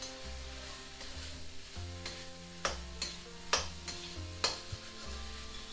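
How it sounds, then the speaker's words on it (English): Boiled potatoes for an aloo bonda filling are broken up in a sizzling pan. Soft scraping and stirring strokes come in uneven knocks and taps over a quiet frying hiss, close and fairly faint, with no talking. "Break the potatoes a bit."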